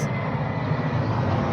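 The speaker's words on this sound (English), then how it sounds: "There's even airplane takeoffs." An airplane taking off at Reagan National Airport beside the Potomac River, a loud, steady roar of jet engine noise that fills the whole moment, heard from nearby and outdoors.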